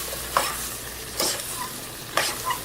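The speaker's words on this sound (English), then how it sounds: "Now we're just going to kind of toss this around in that butter and turn off the heat" Swiss chard gets tossed in butter in a hot pan, three soft scraping swishes spaced about a second apart over a faint, low sizzle, close and quiet.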